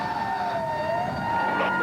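FDNY Rescue One fire truck siren wailing loudly and steadily at close range with a sweeping tone over engine rumble.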